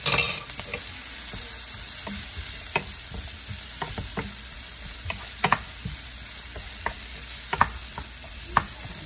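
Minced garlic frying in butter for buttery garlic string beans, a steady close sizzle with scattered sharp clicks and taps of a utensil against the pan.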